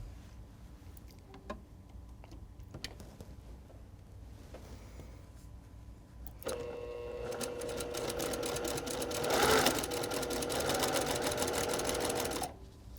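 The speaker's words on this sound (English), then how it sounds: "Put row 1 right sides together with row 1 and sew along the right hand edge." A sewing machine stitches quilt rows together for a table runner, its fast steady mechanical whir starting partway through after quiet handling sounds and running loud and close to the end, with no speech.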